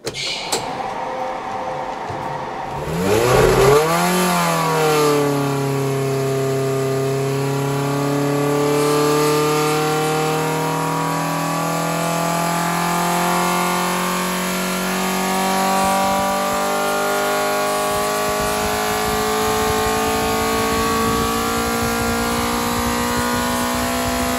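A 2.3-litre Ford Pinto race engine on Weber 45/48 DCOE carburettors fires up and revs, climbing to a loud, sustained high-rpm howl that holds steady with slight wavering.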